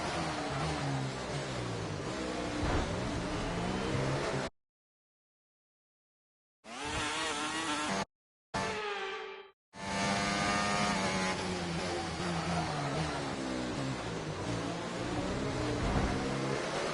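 Race car engines roar in F1 24 during the Canada race. Steady, loud engine drone with shifting pitch runs throughout, broken by a couple of brief silent gaps and a quick rising rev.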